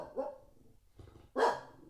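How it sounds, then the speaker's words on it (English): A dog barks at a window: a short bark, a pause, then a louder, sharper bark, close and alone. "any way to get a dog to stop barking at the window"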